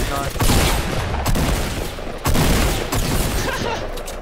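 Dense, continuous gunfire from the video game Fortnite during a battle royale firefight near a house, loud bursts and rapid volleys rolling without pause, with faint talk underneath.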